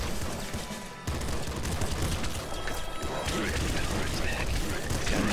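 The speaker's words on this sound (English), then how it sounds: "Can I blow this thing up with a grenade?" Explosions and gunfire from the Nuclear Throne video game during co-op play, with a grenade blast among dense, loud bursts of booms and crashes that continue without a break.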